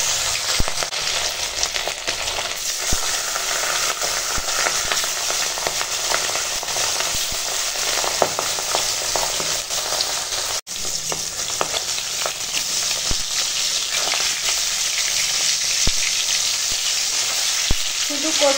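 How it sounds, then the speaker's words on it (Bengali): Fish fries in hot oil with a dense, continuous sizzle and crackle, steady and close throughout, with occasional sharper pops and no voices. "দেখতে থাকো, মাছটা ভেজে নিয়ে ফিরে আসছি"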